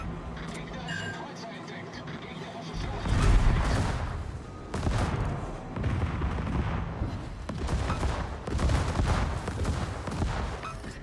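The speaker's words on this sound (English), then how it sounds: "Who's shooting at me with AP?" Naval gunfire in World of Warships, with heavy booming shell impacts striking the player's ship in several loud bursts amid continuous battle rumble, while a person talks over it.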